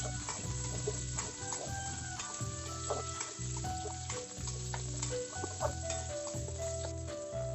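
Small onions (shallots) sizzle steadily in hot oil for a Tamil-style fish curry, a dense even frying hiss with intermittent scraping stirs and light ticks, close and fairly quiet, no talk.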